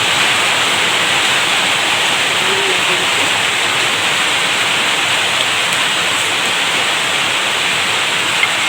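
Oil sizzles steadily with a loud, even hiss as fenugreek seeds fry, continuing unbroken from start to finish.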